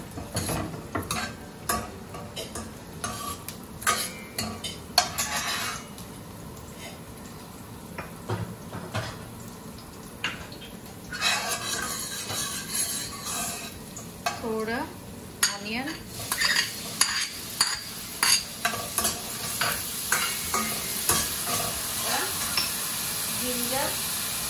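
Garlic sizzles in hot olive oil in a pan while a spatula stirs and scrapes, with clinks of utensils and bursts of frying, soft at first and growing busier and louder.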